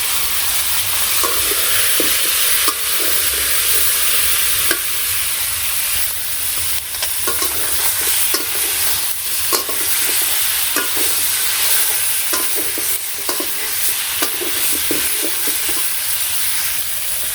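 Small fish frying loudly in hot oil with dried chili and cumin, a constant bright sizzle and crackle close up, with occasional sharper pops and scraping stirs throughout.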